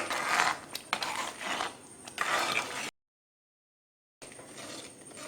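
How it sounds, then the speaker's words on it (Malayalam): A spice mix being stirred into thick Indian gooseberry (nellikka) lehyam, heard as repeated rough scraping strokes of a spoon against the pan. The strokes break off into a stretch of silence, then resume. "നമ്മുടെ മസാലക്കൂട്ട് നന്നായിട്ട് ഇളക്കി യോജിപ്പിക്കാം."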